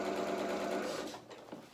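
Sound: sewing machine stitching fabric

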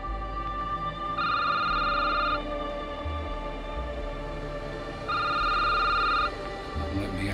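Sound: telephone ringing in a video game

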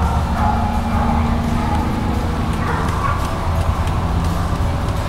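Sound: mountain cur dogs barking at a treed raccoon

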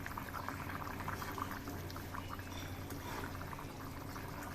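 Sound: fish curry broth boiling with taro, potato and pointed gourd

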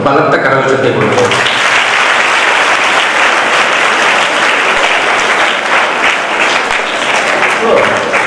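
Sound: audience applause for Venkatraman Tahsildar

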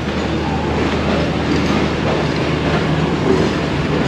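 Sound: Eid special train with GU40 locomotive arriving at platform

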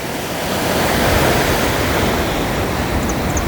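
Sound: ocean waves breaking on shore

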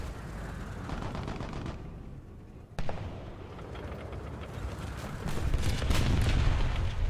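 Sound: gunfire in video game War Thunder

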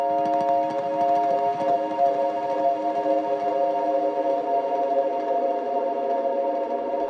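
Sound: aggressively processed guitar harmonic strums

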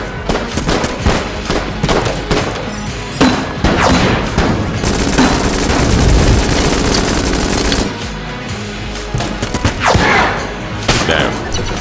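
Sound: grenade explosions in Enter the Gungeon video game

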